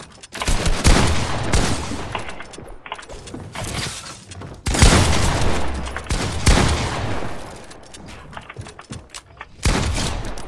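Loud bursts of gunfire in the Fortnite video game, heavy shotgun blasts and rapid volleys in several clusters separated by brief pauses, close and intense.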